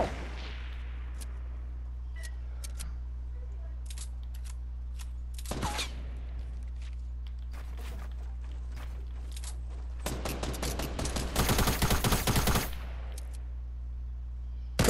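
Sniper rifle shots and gunfire in the Fortnite video game: sharp broadband cracks, with a dense rapid burst of shots near the end, over a steady low game hum.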